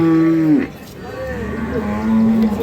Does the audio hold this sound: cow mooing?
yes